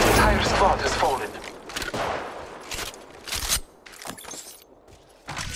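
Gunfire in the mobile shooter Apex Legends Mobile: rapid bursts and volleys of shots, loud at first and then tapering into scattered single cracks, with game voice lines faintly under the shooting.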